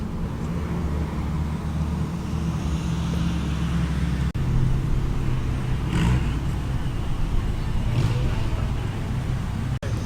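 A Triumph Dolomite and a Ford Escort Mark II drive past one after the other at a mixed vehicle show, their engines droning loudly with rising surges, and a voice talks faintly underneath.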